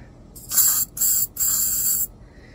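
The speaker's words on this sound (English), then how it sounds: "that sound right there is trapped air stuck in the lighter itself" Trapped air hissing out of a Xikar cigar lighter as it is pressed: three short, sharp, close hissing bursts in quick succession, then quiet.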